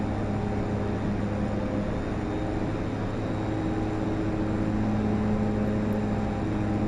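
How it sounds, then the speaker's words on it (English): Twin Otter DHC-6-300 turboprop engines in the FSX flight simulator drone steadily throughout, a loud continuous hum that swells slightly near the end, with no one talking. "It's kind of weird hearing the engines. They keep like sound like it's revving up."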